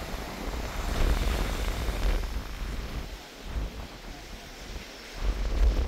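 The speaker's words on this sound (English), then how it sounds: "A bit windy, but all good." Wind gusts buffet the microphone near a lighthouse at Pouto Point, in low, rumbling surges that rise and fall, with a brief lull midway before blowing hard again.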